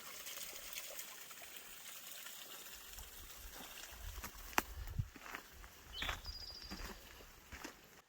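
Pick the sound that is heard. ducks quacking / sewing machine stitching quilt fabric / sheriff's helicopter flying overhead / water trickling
water trickling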